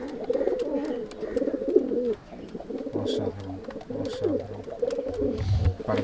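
Several pigeons coo repeatedly nearby in a steady, overlapping murmur, with a few faint background clatters and rustles.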